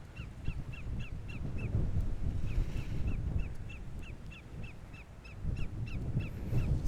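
Birds call repeatedly in short, evenly spaced crow-like caws at a bird sanctuary in Aruba near the Balashi gold mill, set against steady outdoor wind and background noise.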